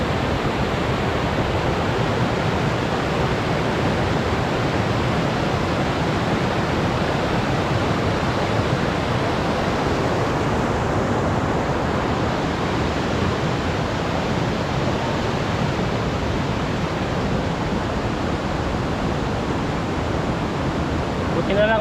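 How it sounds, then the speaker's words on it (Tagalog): A strong, fast river current rushes continuously in a countryside setting, a loud and unbroken wash of water close by with no voices. "Ang lakas ng agos ng tubig."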